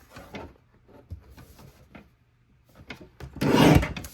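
A paper trimmer slices card stock, with a few light scrapes and taps from positioning the sheet before a louder rasping cut near the end.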